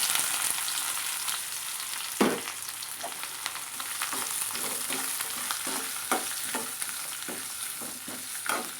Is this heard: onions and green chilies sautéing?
yes